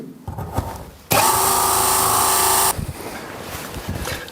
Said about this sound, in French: j'utilise une scie cloche qui peut attaquer le métal, évidemment